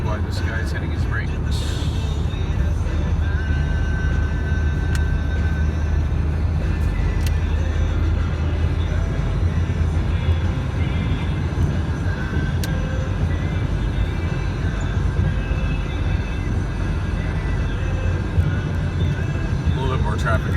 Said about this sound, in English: A little bit more traffic here than I anticipated,